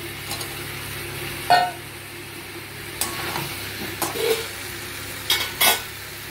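Potatoes go into a pan of mutton and jackfruit masala, with a low steady sizzle under several sharp clinks and scrapes of a spoon against the pot, close by and without voices.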